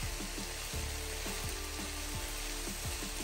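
Fish cakes frying in a pan: a steady broad sizzle close by, with a faint repeating low mechanical thud pattern running underneath, no voices.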